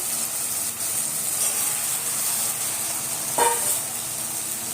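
Chopped okra and brinjal sautéing together in hot oil for a tamarind curry, a constant close sizzle and hiss with a brief sharper spatter near the end, no voices heard.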